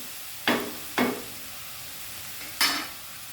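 Cabbage, onion and tomato frying in a pan on high flame on a small burner, with three sharp stirring scrapes over a soft, steady sizzle.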